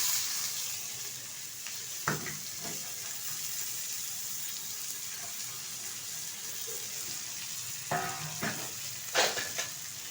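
Chopped onions fry in a pan for lentil dal, a continuous close sizzle with a few sharp clinks and scrapes of stirring near the start and toward the end.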